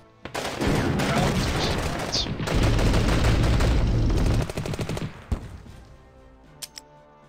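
An artillery duel in the war strategy game People's General plays out as a dense, loud barrage of rapid firing for about four seconds, then a few isolated thumps as it dies away.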